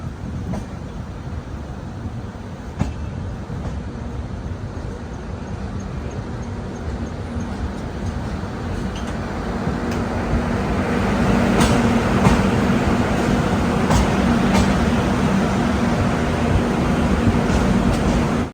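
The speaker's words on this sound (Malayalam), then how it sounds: "ട്രെയിൻ ഇപ്പോൾ ചിപ്ലിൻ റെയിൽവേ സ്റ്റേഷനിലേക്ക് എത്തിയിരിക്കുകയാണ്" A Rishikesh Express passenger train rolls through a tunnel toward a station, a steady low rumble and rattle of carriages that grows louder and denser in the second half, with faint clicks over the roar.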